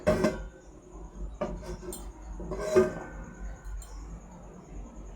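A metal plate is set as a lid on a cooking pot of pumpkin and potato curry. It makes a few light metallic clinks and knocks, close by, against a quiet kitchen background.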